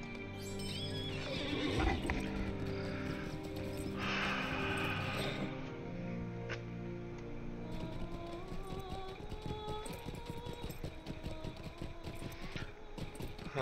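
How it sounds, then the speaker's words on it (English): In a video game, a horse whinnies loudly near the start, followed by a rhythmic clip-clop of hooves and a second neigh later over outdoor ambience. "There's the horse up there."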